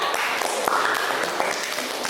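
Classroom applause for the best student group: steady, close clapping from a group of people, with a few sharper individual claps standing out and faint voices underneath.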